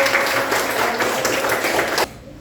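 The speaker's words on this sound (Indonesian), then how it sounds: "Ya, tepuk tangan buat" A class of students applauds after a presentation, brisk crowded clapping from many hands for about two seconds before cutting off abruptly into quiet room tone.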